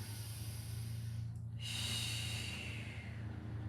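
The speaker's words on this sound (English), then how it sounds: "breathing in, breathing out" Strong breaths in and out during a Pilates exercise, a sharp nasal inhale followed by a long hissing exhale, close and clear over a low steady hum, no talking.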